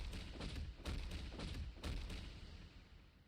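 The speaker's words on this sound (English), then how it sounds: "We return to the cipher room and start banging on the wall" Banging on a wall in a video game's cipher room: a handful of dull, low thuds, about five over three seconds in an uneven rhythm, close and moderately loud over a steady background.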